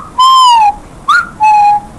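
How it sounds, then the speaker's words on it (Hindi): A whistle blown at an indoor play place in three separate loud, close blasts: a long steady tone, a short chirp, then another sustained blast, with no talking. "अब मैं बजाऊंगा सीटी"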